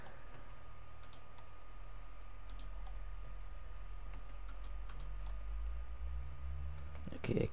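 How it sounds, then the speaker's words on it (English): A computer mouse clicks while building an 8-bit CPU, giving scattered sharp, close clicks, some in quick doubles, over a steady low background hum with no talking. "I'm double clicking by accident."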